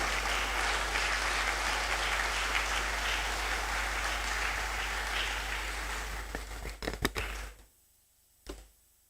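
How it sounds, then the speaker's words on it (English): An audience claps steadily at an inaugural lecture, a broad sustained wash of applause that thins into a few scattered claps before falling silent, with one last clap after a pause. "Please let's clap until she reaches the podium"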